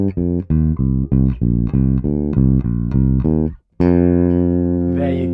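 A bass guitar plays the melodic line from a song, a run of about a dozen loud, close, plucked notes in steady rhythm, then a short gap and a long sustained note.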